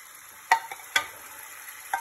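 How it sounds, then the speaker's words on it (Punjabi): Lentils are stirred into a dal tadka of tomatoes, black pepper and coriander powder frying in a pan. Three or four sharp spoon clinks rise over a faint, steady sizzle. "ਹੁਣ ਮੈਂ ਦਾਲ ਇਹ 'ਚ ਮਿਕਸ ਕਰਾਂਗੀ"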